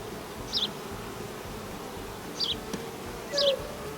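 Honey bees buzz softly around an open hive during early-season beekeeping, a low steady drone with a few brief, sharper high notes standing out over the quiet hum.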